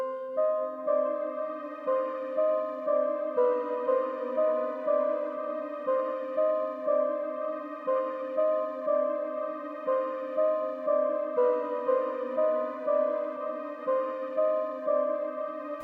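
A wavy, reverberant bell-like synth preset plays a steady repeating melody over chords in a beat, each note ringing with a soft decay, with no voices.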